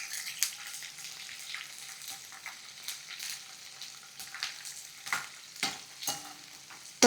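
Garlic fries in oil for a crispy onion chutney, giving a soft continuous sizzle broken by repeated bursts of stirring and scraping.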